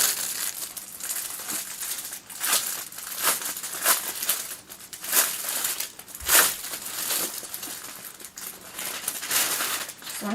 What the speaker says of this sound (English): Just want to take that paper out.